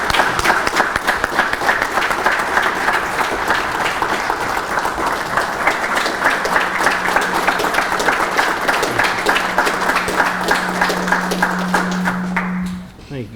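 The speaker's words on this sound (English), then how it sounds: "Let's give him a big round of applause." An audience at a high school football media day for the Boaz Pirates gives the coach a big round of applause: dense, steady clapping that holds for about twelve seconds under some murmuring, then quickly dies away.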